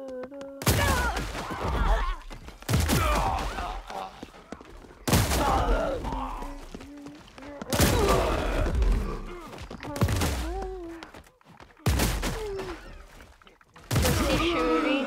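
Gunfire in the video game Paint the Town Red: loud bursts of shots arrive in repeated volleys every couple of seconds, with thuds and crashes mixed in and a voice talking over the fight.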